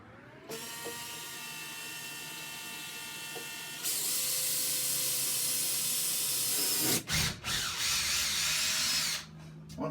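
Power drill with a small starter bit boring a pilot hole into wood for a mirror anchor, a steady high-pitched whine that gets louder and harsher midway, then briefly stops and restarts, with no talking.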